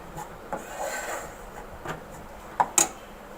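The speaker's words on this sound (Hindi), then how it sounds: "मैंने इसमें मुसलसल चम्मच चलाया है" A spoon keeps stirring flour roasting in ghee, making soft scraping and rubbing sounds, then a few sharper clicks near the end.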